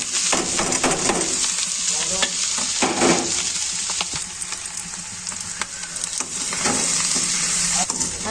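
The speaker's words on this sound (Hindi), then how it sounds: "अब मैं डाल रही हूँ इसमें ये आलू, ये फ्राई करेंगे थोड़ी देर" Potatoes fry with onions already browned in a pan, a loud continuous sizzle with repeated scraping stirs throughout and no talking.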